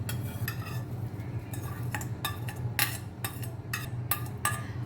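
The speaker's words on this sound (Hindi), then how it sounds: "और अब इसे ना अच्छे से मिक्स करें।" A spoon stirs cooled tempered oil into homemade lemon pickle in a bowl, giving a run of sharp scraping clinks in uneven bursts, close and fairly quiet over a low background hum.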